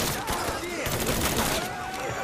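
Sustained rapid gunfire from Mafia 3, dense and loud for the whole stretch, with bursts overlapping so no single shot stands apart.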